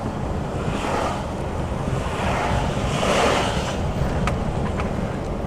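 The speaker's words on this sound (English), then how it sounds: "it's awfully windy this morning" Strong wind roars steadily into the microphone, a continuous rough buffeting with gusts swelling and easing, no voices heard.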